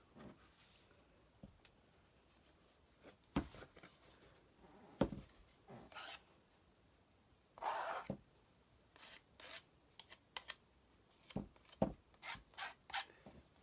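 Paint is scraped across a canvas in short, separate rasping strokes, close and fairly quiet, with scattered scrapes and pauses between them and brief louder drags near the end, with no talking.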